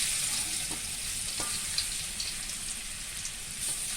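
Pounded garlic toasting in hot oil left over from frying, for crispy anchovy potato chips, gives a steady close sizzle with a faint crackle running unbroken and evenly throughout.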